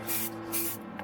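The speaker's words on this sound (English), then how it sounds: "spraying" Short hissing aerosol spray bursts onto a model Kline–Fogleman flying wing, two bright blasts and a shorter third one, close and fairly soft, with a faint steady hum beneath.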